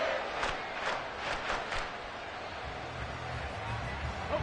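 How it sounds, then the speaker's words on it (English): A football stadium crowd roars during a third-and-ten play, with a burst of sharp yells and cheers at the start that settles into a steady, distant rumble of noise. "this crowd is making an impact right now"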